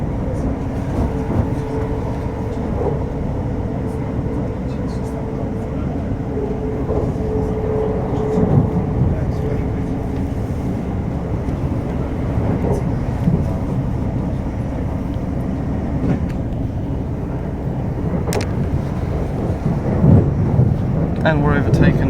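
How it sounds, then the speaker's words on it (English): Onboard a train running from Tring to London Euston, a steady rumble of wheels and motors fills the carriage as a pair of Class 350 units overtake on the adjacent line, with someone speaking intermittently. "And we're overtaken by a pair of 350s."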